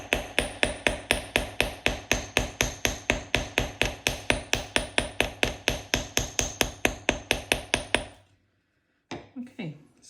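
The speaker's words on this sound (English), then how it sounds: "hold your wires here and then start to hammer" Rapid, steady metallic taps of a small hammer flattening a wire hoop for texture, about forty evenly spaced ringing strikes close up, then a pause and a brief shuffle of handling.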